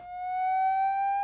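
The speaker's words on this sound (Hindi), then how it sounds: "पुलिस की सायरन, पुलिस आ गई।" A police siren holds a steady, pure electronic tone with clear overtones, moderately faint and continuous for about a second without rising or falling, no voices over it.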